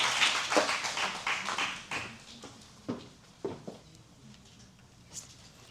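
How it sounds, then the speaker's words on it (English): A university forum audience in Manila claps to welcome a professor, starting as a brief cluster of claps that quickly thins into scattered, isolated claps and then falls quiet. "let's give her a warm round of applause"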